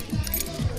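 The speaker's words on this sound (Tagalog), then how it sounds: "Oh, yung mga susi" A brief metallic jingle of keys shaken twice in quick succession, close by and fairly bright, with no speech over it.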